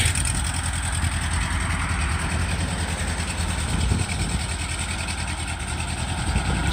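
A WWII-era Ford 9N tractor engine runs steadily nearby with a constant low rumble, its clutch stuck and slipping, holding an even, unbroken level throughout with no talk.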